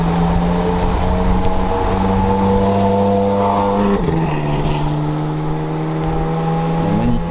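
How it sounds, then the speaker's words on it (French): A Ferrari 458 pulls away at a car event, its engine note loud and close, a steady drone that shifts pitch midway as it moves off, with no talk over it. "Il y a la 458 qui part"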